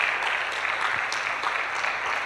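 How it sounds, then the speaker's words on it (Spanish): A church congregation applauds together at a worship service, a steady wash of clapping that fills the whole moment with no pauses, with a voice faintly mixed in underneath. "Denle un fuerte aplauso al Señor."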